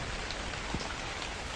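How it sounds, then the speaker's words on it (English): Steady rain falls in the video game The Convenience Store, a soft continuous hiss of drops with no voices over it. "I think I'm hearing something that's probably just the rain."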